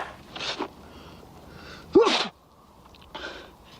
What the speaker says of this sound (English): Makes me sneeze.